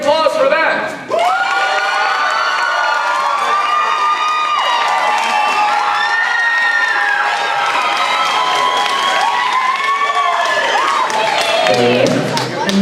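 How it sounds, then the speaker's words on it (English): An improv comedy show audience cheers for a team: loud, sustained whoops and high shouts from many voices over scattered clapping, near and continuous, with a brief dip early on before the roar resumes. "so let's hear applause for that!"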